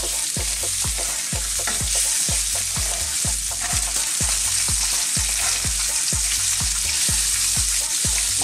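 Pork ribs frying in a pan, a steady loud sizzle broken by regular rhythmic knocks and scrapes of stirring, no voices.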